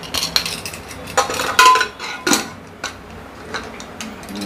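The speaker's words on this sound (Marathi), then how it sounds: "आणि आता आपण कुकरचं झाकण लावून घेऊया।" A pressure cooker lid being closed, with a series of short metallic clicks and clanks spaced irregularly, close and alone without talk.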